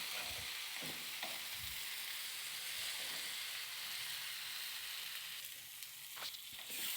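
Dried anchovies fry in a pan with a steady, bright sizzle that runs without a break. A few low knocks and scrapes come through as the mixture is stirred.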